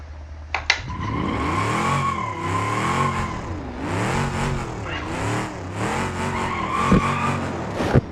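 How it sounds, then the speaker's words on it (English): A car in the BeamNG.Drive driving game doing a burnout, engine revving in repeated rising and falling surges with squealing tires, loud and close with no talk. "Do a burnout in front of their doorstep"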